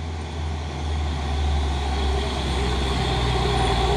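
A Hino truck drives past with a steady, heavy low engine rumble that swells slightly and holds, fairly close and without speech.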